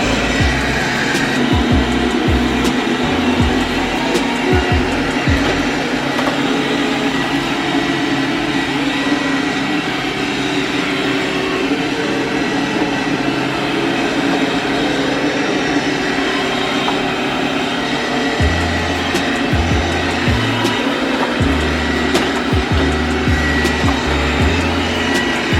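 A robot vacuum cleaner cleans a home with a constant, loud whirring hum and occasional low thumps as it moves, with no voices.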